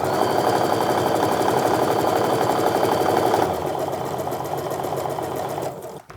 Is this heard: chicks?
no